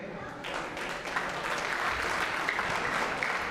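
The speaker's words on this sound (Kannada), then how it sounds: "ಈ ನಮ್ಮ ಮಹಿಳಾ ಮಂಡಳಿ ಅಂದರೆ ಈ ಕ್ಯೂಟ್ ಪ್ರಿನ್ಸಸ್ಗೆಲ್ಲ ಚಪ್ಪಾಳೆ ಬರಲಿ" Applause from an audience at a Deepotsava program, cheering a women's group: dense, steady clapping from many hands that swells after the first half second and keeps going at an even level to the end, with no voices on top.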